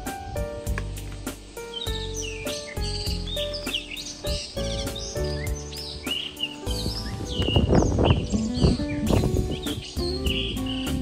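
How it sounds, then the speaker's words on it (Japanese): Wild birds sing in a forest with several overlapping chirps, trills and whistles from near and farther off, continuing steadily with insect-like buzzing beneath and a busier burst of song toward the end. "森の中で暮らしていると野鳥のさえずりに癒される毎日です。"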